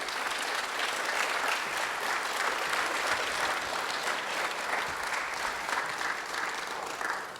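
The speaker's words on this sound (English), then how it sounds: "So let's give her another round of applause." An audience claps in a steady, dense round of applause that stays fairly even for several seconds and then begins to thin toward the end.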